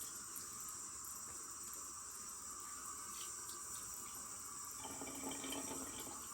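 A tap runs steadily into a sink, a continuous close hiss and splash that thickens slightly near the end as hands dip into the flow to dampen a face.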